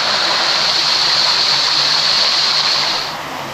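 A muddy, heavily swollen waterfall in the Kwai Nau stream gorge roars with a dense, steady rush of water, loud and close, then eases slightly in its final moments.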